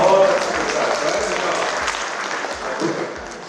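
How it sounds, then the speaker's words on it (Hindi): Audience applause at a Hindi kavi sammelan poetry recital, a short dense burst of clapping that swells and then slowly thins, with some voice mixed into the crowd noise. "आप एक बार तालियां हो जाए"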